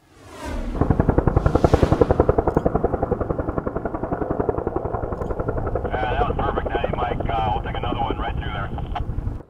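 Firefighting air support works over the Bannack wildfire southwest of Dillon, a helicopter's rotor thumping steadily and loudly with wind buffeting the microphone as the rhythmic beat drifts on.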